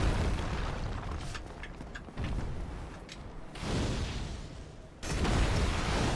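Fire orbs exploding in Dark Souls in the Crystal Cave, a series of heavy booming blasts and rumbling bursts, with a sharp louder explosion near the end.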